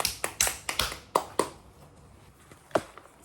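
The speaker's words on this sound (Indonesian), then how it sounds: "Tepuk tangan untuk kita semua." A small class claps in a classroom, a handful of sharp, separate claps in quick succession that thin out to one last isolated clap, close and fairly loud against a quiet room.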